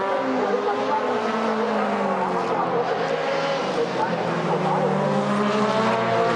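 A Mercedes four-door DTM race car heads toward the pits, its engine howling with shifting pitch and a dense, loud roar while a commentator talks over it.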